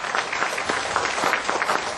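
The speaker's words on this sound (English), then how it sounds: "Please give a huge round of applause for Mr." An audience at an HR summit claps steadily for a speaker coming on stage, dense and fairly loud applause that stays even for the whole stretch.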